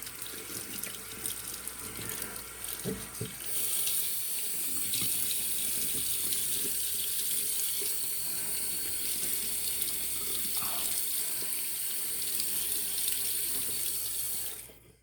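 Tap water runs steadily into a bathroom sink during a face rinse after a shave, a loud, close rushing stream, with brief splashing and handling sounds before the flow settles.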